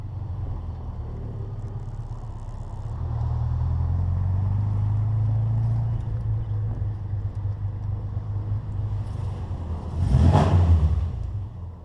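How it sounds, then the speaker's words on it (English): A 1960 Bugeye with a five-speed gearbox drives along, its engine and exhaust giving a steady low rumble that swells and eases with throttle, with a louder, closer surge near the end. "fantastic exhaust note, and it's just a lot of fun to go out and drive around in this car"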